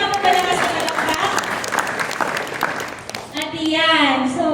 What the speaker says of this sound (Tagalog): Isa nga po palakas na palakpak?